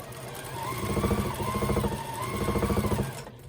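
A sewing machine stitches patchwork quilt block pieces together with a 1/4 inch seam allowance, running close and steady with a rhythmic mechanical chatter that stops abruptly near the end.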